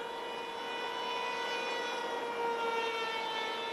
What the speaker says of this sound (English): So let's see what happens when I go fast, full throttle here.